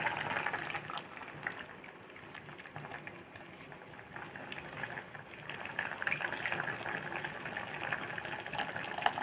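A pot of Tamil pepper-fenugreek kuzhambu bubbles at a steady simmer, soft crackling and popping with no break, quiet and close.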